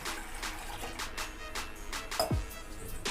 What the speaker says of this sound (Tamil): அதில் ஒரு சொம்பு தண்ணி ஊற்றிக்கலாம்.